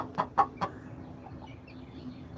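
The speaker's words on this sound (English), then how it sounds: "What are you doing, hen?" A hen clucks three times in quick succession, close and fairly soft, then goes quiet over a low background hum.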